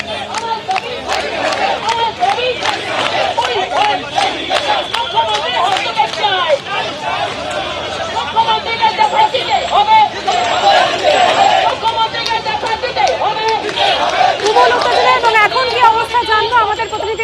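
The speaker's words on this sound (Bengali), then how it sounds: "ময়দানে টি চাকরি প্রার্থীরা বিক্ষোভ দেখাচ্ছিলেন সেই বিক্ষোভ মিছিল আটকে দেয় পুলিশ তুমুল উত্তেজনা তৈরি হয়" A crowd of job seekers protests at Maidan as police stop the march, making a continuous loud mix of shouting, chanting and babble with some rhythmic cries throughout.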